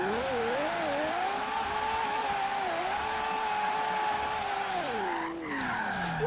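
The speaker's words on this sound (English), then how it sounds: "Oh, this thing is so hard to drift." A powerful car of about 1,000 horsepower drifts on a rainy road in Forza Horizon 3, its tires squealing in one long, wavering, loud howl over a steady engine drone.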